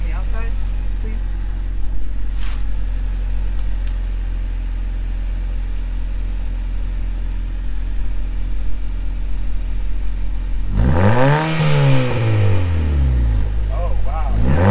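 A 1999 Honda Civic CX hatchback idling through a Revel Medallion Touring-S exhaust, then revved once up and back down near the end, heard from outside with a person talking under the idle.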